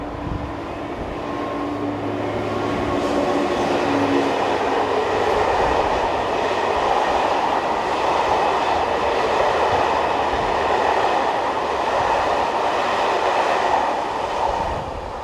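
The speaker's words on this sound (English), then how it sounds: "Leaving the station is 15012 on the 1537 service from Saint-Dizier." Locomotive 15012 leaves a station in France hauling a passenger service from Saint-Dizier, giving a loud, steady rolling rumble of wheels and engine throughout with no voices.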